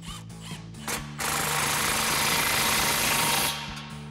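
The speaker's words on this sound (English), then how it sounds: "slide our clamp into position, and tighten it down with a 15 millimeter socket" A power tool with a 15 millimeter socket tightening an exhaust clamp on a Jeep Wrangler JL, heard as a close, loud, continuous buzzing rattle lasting a few seconds, with short bursts before and after.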